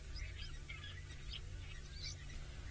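Various wild birds call at a distance, blacksmith lapwing among them, with scattered chirps over a low steady rumble of ambient outdoor noise.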